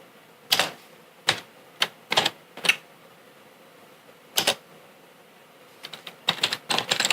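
Keys clack on a computer keyboard while Kotlin code is typed, in short irregular bursts of taps separated by pauses, close and clear with no talking.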